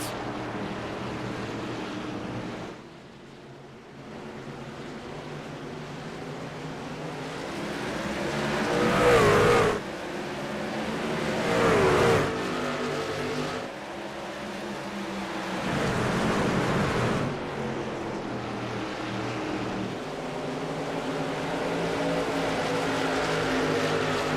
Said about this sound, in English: we're gonna go and listen to these sweet engines purr, as these guys are gonna go on through their first restart of the night